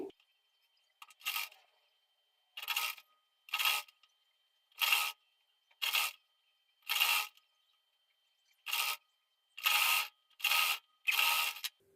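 A sewing machine stitching a sleeve seam onto a blouse runs in about ten short whirring bursts of roughly half a second each, separated by silent pauses, close and clear, no talking.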